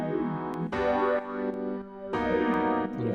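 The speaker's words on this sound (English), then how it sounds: "It's just a Rhodes with a phaser" A Rhodes electric piano run through a phaser, layered with acoustic piano and panned to opposite sides, plays sustained chords in two swelling phrases with a sweeping, shimmering tone and faint percussive ticks, no voices.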